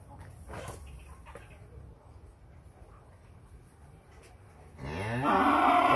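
Cattle at a farm in La Hai, Đồng Xuân, Phú Yên let out a loud, close moo near the end, after quieter low lowing and faint background noise.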